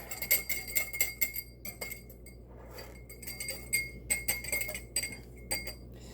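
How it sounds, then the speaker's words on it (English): A spoon stirring cayenne-spiced salad dressing in a glass gives repeated light clinks and taps against the glass in quick, irregular bursts, close and fairly quiet, with no voices. "And we're going to stir it up."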